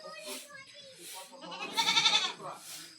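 Four goats tied outside in the morning bleat in repeated wavering calls, one louder, quavering cry in the middle, close by with a faint voice in the background.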